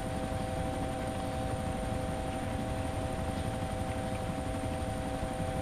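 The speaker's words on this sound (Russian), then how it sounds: "походу они уперли эти вертолеты у них" Helicopter in the DayZ Origins video game, a steady, loud rotor and engine drone with constant tonal hum running unbroken throughout, no voices over it.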